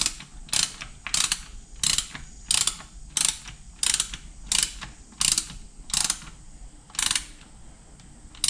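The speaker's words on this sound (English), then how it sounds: "so that's the last of our bolts. So we'll start tightening them." Ratchet wrench tightening the valve cover bolts on a Mitsubishi Lancer Evolution X engine: about a dozen short, crisp bursts of rapid clicking, close up, spaced at a steady working rhythm with brief pauses between strokes and no talk.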